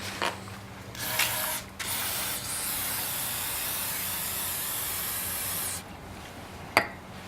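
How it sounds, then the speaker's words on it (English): Cleaner sprayed onto the intake of a BMW engine during a crankshaft sensor repair: a short burst, then a long steady hiss lasting several seconds, close and fairly loud, with a few clicks around it. "I'm going to just spray a little bit of this cleaner here."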